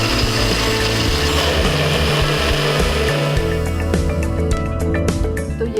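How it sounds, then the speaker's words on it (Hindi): Soaked chickpeas being blended into hummus in an electric grinder jar, a loud, harsh whirring motor with rattling, clattering contents that changes pitch and texture as the mixture turns smooth. "So let's grind it."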